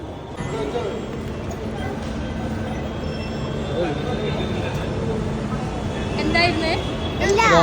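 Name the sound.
metro train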